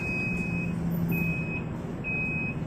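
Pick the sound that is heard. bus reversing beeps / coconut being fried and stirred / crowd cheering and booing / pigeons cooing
bus reversing beeps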